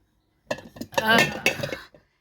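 Glass airtight storage jars holding pantry staples such as sugar, rice and flour clink together in a short cluster of close, bright taps lasting about a second and a half.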